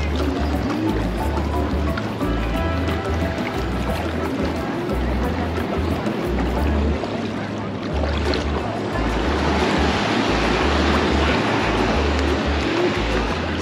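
Ocean waves at Waikiki Beach on Oahu, Hawaii, with a steady broadband wash of surf and wind rolling on throughout, surging stronger in the second half.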